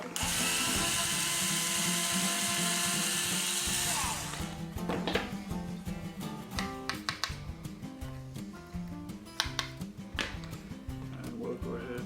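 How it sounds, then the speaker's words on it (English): A power drill bores a hole through a bit guide during a quad build, a loud steady whir that stops, followed by irregular clicks, knocks and handling clatter of parts. "I'm gonna drill this one by itself, so I'm gonna drill it this way and use it again for the bit guide."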